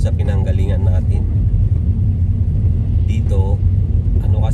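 Cars rumble steadily past on a snowy, slippery road in winter Canada, a continuous low traffic drone with a person talking over it throughout.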